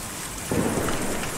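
Rain falling with rumbling thunder in the game Kentucky Route Zero, a steady hiss that swells suddenly midway into a heavier roar.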